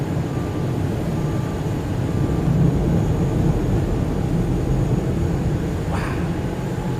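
A big jet departs Ted Stevens Anchorage International Airport and climbs steeply, its broad, steady roar filling the whole stretch at a loud, constant level with no clear break.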